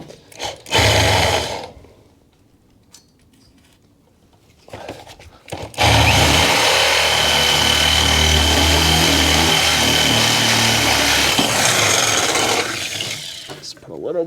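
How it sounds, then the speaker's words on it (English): A power drill whirs briefly, then after a pause bores steadily for several seconds, a loud grinding buzz close by that tapers off. "So now we'll drill this hole"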